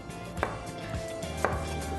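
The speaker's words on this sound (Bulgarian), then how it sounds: "взимам и няколко моркова, нарязвам ги" A knife chops carrots on a cutting board in a kitchen, giving rhythmic, crisp thuds that repeat at a steady pace, close and clear with no talking.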